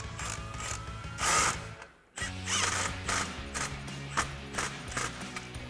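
A 13mm socket works an exhaust clamp tight on a 2011-2014 Mustang GT axle-back exhaust, giving a quick run of close ratcheting clicks with a short pause midway, no talking.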